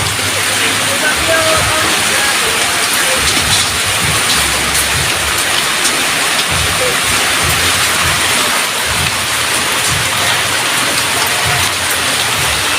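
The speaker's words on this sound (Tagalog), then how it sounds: "Talaga po dito napakalakas ng ulan." Heavy rain pours down around a house, a loud, dense and unbroken hiss that fills the whole stretch with no letup.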